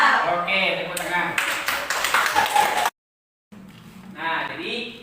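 Students in a classroom clapping their hands, a short dense burst of applause mixed with voices, followed by a brief silence and then more talking.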